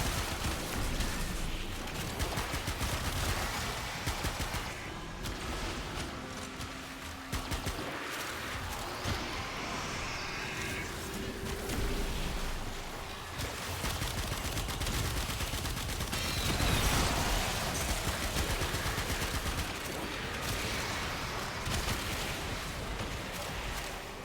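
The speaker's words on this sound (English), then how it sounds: "I'm shooting at the butt." Dense, continuous video game gunfire aimed at an enemy rattles loudly and without pause throughout, with rapid bursts and impacts layered over one another.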